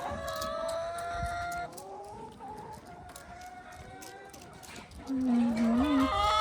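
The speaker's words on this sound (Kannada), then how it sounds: "ಇಲ್ಲೆಲ್ಲ ಕೋಳಿಗಳಿದೆ ಇದೆಲ್ಲ ಮೊಟ್ಟೆ ಕೋಳಿಗಳು" Laying hens in a chicken farm cluck and squawk continuously at close range, several birds overlapping in a busy, steady chorus with no talk.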